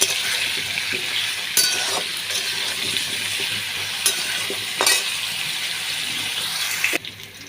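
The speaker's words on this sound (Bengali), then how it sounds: "আলুটা ভাজা হয়ে গেছে।" Potatoes frying in hot oil in a pan, a steady close sizzle with occasional stirring clinks and scrapes, no talk.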